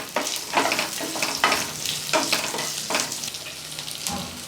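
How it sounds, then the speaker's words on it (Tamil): Chopped onion frying in a pan for a Tamil mango curry, giving a steady, close sizzle broken by several sharp stirring scrapes at regular intervals. "இப்போ இதோடவே ஒரு வெங்காயத்தை நறுக்கி சேர்த்துடலாம்."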